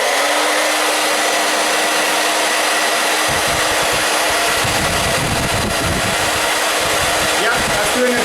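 A Conair InfinitiPro 1875W tourmaline ceramic hair dryer blows steadily on its cold shot setting, a loud, close, continuous whooshing roar that holds constant throughout with no talking over it.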